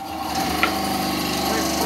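A benchtop craft bandsaw cutting wood, a steady close mechanical hum with a slow, even rasp of the blade through the workpiece, continuous and moderately loud.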